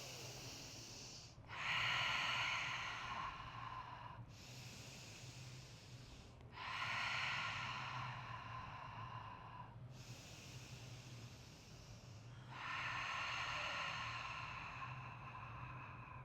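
Deep yoga breaths, slow inhales and exhales repeated in a steady rhythm, each long airy breath close and clear against a quiet room with a faint low hum.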